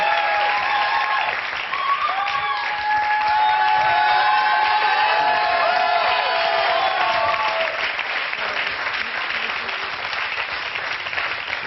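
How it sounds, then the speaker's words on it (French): Studio audience breaks into loud, sustained applause with some cheering after a pop song on a French television show, dense clapping steady throughout and fading slightly toward the end. "On n'a pas vu ça depuis Maurice Druon, des applaudissements comme ça"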